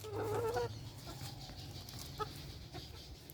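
Free-ranging chickens kept without a coop in the tropics cluck softly nearby, with a brief higher call at the start and scattered short clucks afterward over a low background hum.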